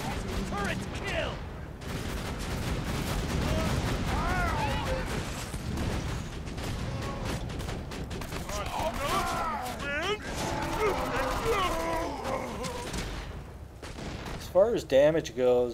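Turret gunfire in Borderlands 2, dense rapid bursts of shots and impacts running nearly continuously with a few sharp pops at the end, mixed under someone talking and game sound effects.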